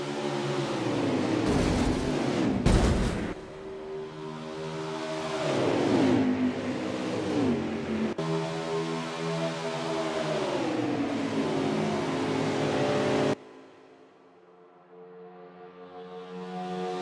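NASCAR stock cars roaring around Daytona in NASCAR Heat 4, a loud sustained engine drone with rising and falling revs as cars pass, ending in a quieter lull before building again.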